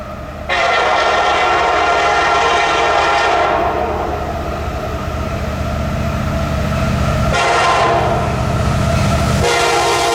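Eastbound P&LE coal train led by an SD70ACe locomotive rolls past close by, a loud steady rumble of wagons with horn blasts sounding near the start and again around the eighth second.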